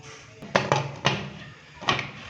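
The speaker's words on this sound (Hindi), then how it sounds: "प्रेशर कुकर का ढक्कन लगाएंगे।" A pressure cooker lid handled and fitted onto a pot of beef karahi, giving several sharp metallic clanks and knocks spaced apart, fairly close and loud.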